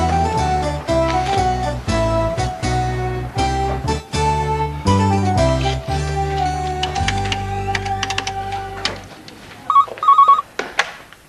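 A telephone bell rings in a short double burst near the end, right after a long stretch of bright, bouncy music. The ring is brief and nobody talks over it.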